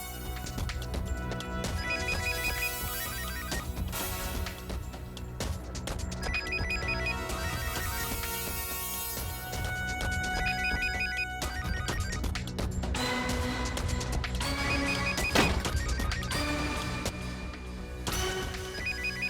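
A mobile phone ringtone plays close by, a repeating electronic melody with bright tonal phrases over a steady musical backing, loud and continuous for the whole stretch.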